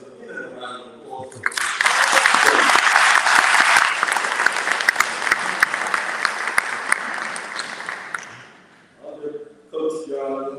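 Sustained round of applause from an audience at a memorial event, starting abruptly, holding loud and steady for about seven seconds, then fading out as people begin to talk again.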